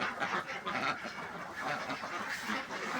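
A flock of Khaki Campbell laying ducks on a duck farm quacks continuously, many overlapping nasal calls close by with no pause across the stretch.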